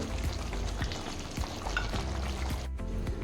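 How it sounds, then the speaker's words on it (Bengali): Chicken for a dum biryani, already browned, cooks in a pan with a little added water, giving a dense, continuous bubbling sizzle with scattered small pops and clicks. "চিকেনটা আমি ভালো করে কষে নিয়েছি, এবারে এতে অল্প পরিমাণে জল দিয়ে আমি এটাকে একটু হালকা সিদ্ধ করে নেব।"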